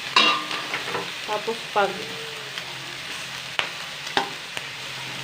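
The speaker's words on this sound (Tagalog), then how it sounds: "tinutunaw ko dyan para para mawala yung mga taba niya, yung mamantika" Pork fat rendering in a pan while cooking pork adobo, a crackling sizzle with stirring clatter and brief sputters early on, fading to quieter spitting, with a short spoken phrase near the start.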